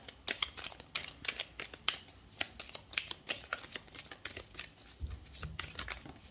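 Tarot cards being shuffled by hand for a reading, a steady run of crisp riffling snaps in quick irregular bursts, close and fairly quiet, with no voices over it.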